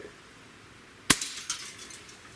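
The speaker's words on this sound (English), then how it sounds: "Now that drum shattered. Little toy drum." A Beeman QB78S CO2 air rifle shot shatters a little toy drum target: one sharp crack with a burst of breaking fragments, then a smaller clatter about half a second later, against quiet background hiss.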